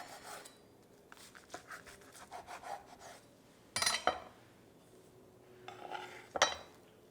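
A knife cuts into a baked tiropita puff pastry braid filled with creamy cheese, giving soft crackly scraping close up, light crunchy strokes that build to two sharper crisp cuts, with faint clinks in between.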